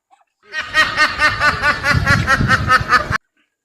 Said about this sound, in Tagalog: Ito din yung mga pato